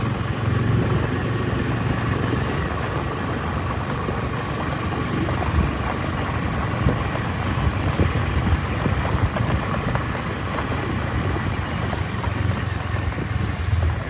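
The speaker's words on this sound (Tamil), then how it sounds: "பைக் சரியாக சத்தம் போகுது." A motorcycle engine hums steadily while riding along a rural road, with heavy wind noise over the microphone and a continuous, close drone.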